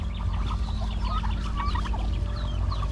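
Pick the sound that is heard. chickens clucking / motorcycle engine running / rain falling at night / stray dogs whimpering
chickens clucking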